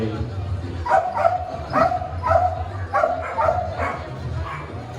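Dog barking repeatedly at a companion animal festival during an obedience demonstration, a string of sharp yips and barks at a steady rhythm over crowd noise and a voice talking.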